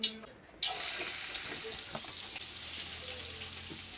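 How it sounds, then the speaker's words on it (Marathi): Onion frying in hot oil in a pan over a wood-fired clay stove, a steady broadband sizzle starting abruptly after a brief quiet moment and continuing close and loud with faint clinks. "कांदा चांगला भाजून घेऊया"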